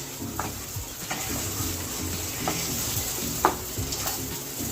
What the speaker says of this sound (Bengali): এর মধ্যে দিয়ে একটু ভাজা ভাজা মানে কষা কষা মতো করে নেব।